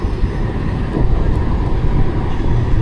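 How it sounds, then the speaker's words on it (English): A steady low rumble of a tram rolling past nearby in Bremen, Germany, continuous and fairly loud, with a faint metallic squeal above the drone. "As soon as this little tram gets out of the way"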